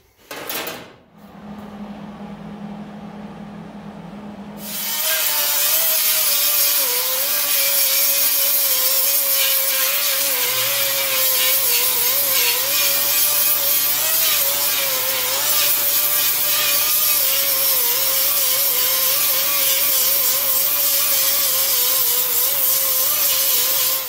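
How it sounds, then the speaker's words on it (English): Grinding down and dressing a welded cut-and-butt seam on a car body panel, a harsh, loud, continuous abrasive whine that settles into a steady grind after a few seconds of quieter handling, close up with no talking. "Grind it up. I had to come back and re-weld a few spots again. Re-grind it."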